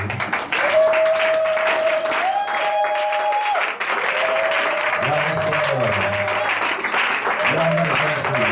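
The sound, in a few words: church congregation applauding and cheering for Jesus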